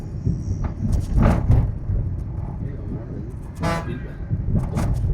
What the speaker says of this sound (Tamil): ஆர்ன் அடிங்க